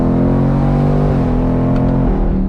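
A 2024 Ford Mustang GT convertible with a Coyote V8 engine revs through gear shifts, its loud, continuous low engine drone stepping in pitch near the shift points, heard from inside the car with no speech.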